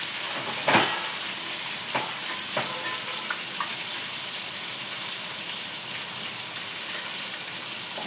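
Fish curry frying in a pan gives a steady, close sizzling hiss throughout, broken by a few sharp pops and stirring clicks, with no talking.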